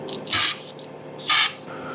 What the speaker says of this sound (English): I also spray through the rubber line.